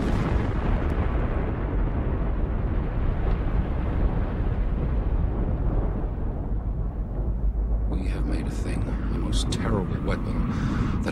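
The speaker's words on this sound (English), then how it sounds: "it would create the biggest explosion ever seen" A huge rumbling blast from the Shrimp hydrogen bomb test, a thermonuclear device far lighter than Ivy Mike, rolls on as continuous deep low roar for the whole stretch, with crackling bursts entering near the end.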